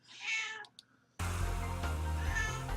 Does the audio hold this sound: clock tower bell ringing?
no